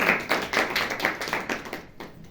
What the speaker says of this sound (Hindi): आप प्रभु की महिमा के लिए ताली बजा सकते हैं।